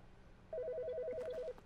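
In The Stanley Parable an electronic office phone gives one ring: a quick, even warble between two alternating tones that lasts about a second. It comes through clearly over faint background hum, and nobody speaks.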